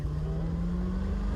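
A C4 Corvette pulling hard in second gear gives a steady, loud, low engine drone that holds an even pitch for a short stretch, with no voices over it.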